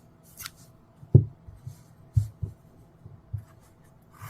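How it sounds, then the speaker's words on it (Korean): Scissors cut crochet yarn for a small snowman keychain, giving a few quiet, crisp snips close by, spaced irregularly over a near-silent background. "이제 실을 잘라줄 건데"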